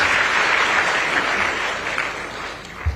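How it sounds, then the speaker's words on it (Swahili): Sustained applause from a crowd at a Kirinyaga county event before the Kenyan president, dense and steady, slowly easing off toward the end. "Makofi tena kwao."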